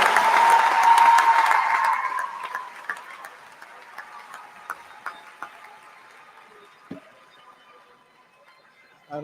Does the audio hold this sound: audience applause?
yes